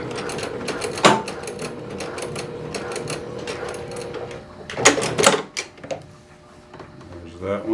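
A sewing machine stitches a seam on a pair of pants at stitch length 2, running forward and back, with a steady close mechanical whir broken by a few sharper bursts near the middle and end, and a voice in places.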